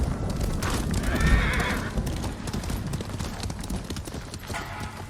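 A horse in the Ghost of Tsushima video game gallops with rapid clip-clop hoofbeats and lets out two loud neighs, one early and one near the end.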